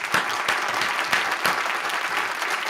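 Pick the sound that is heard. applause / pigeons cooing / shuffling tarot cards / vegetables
applause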